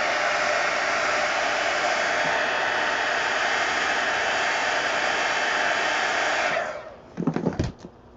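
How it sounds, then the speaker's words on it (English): A heat gun blows hot air to dry paint on an adult coloring page, a loud, steady whirring roar that runs for several seconds, then cuts off, followed by a few brief clattering handling noises. "I'll hit it with the heat gun just to make it go faster"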